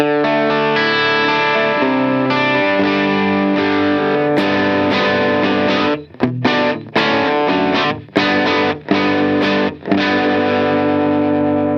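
An electric guitar running through the amp and cab models of a Line 6 POD Go, with distorted, loud sustained chords followed by choppy, rhythmic chord stabs with brief gaps.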